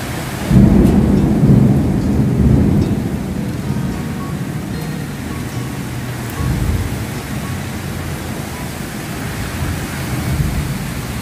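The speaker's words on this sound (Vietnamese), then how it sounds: "Nó sấm chớp đấy chứ." Heavy rainstorm in Hanoi with a loud thunderclap rolling low and close near the start, followed by continuous dense rain hiss and rumble that persists to the end, with no voices.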